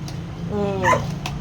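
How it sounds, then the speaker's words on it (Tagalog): A single short, whiny dog bark or yelp close by, with a faint click afterward. "tahol lang tahol"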